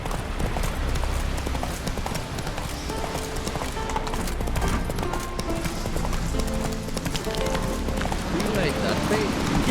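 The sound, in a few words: horse Roach galloping, from video game The Witcher 3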